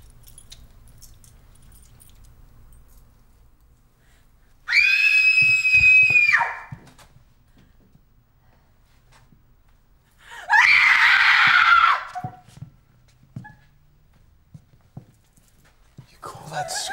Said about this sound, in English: You call that screaming?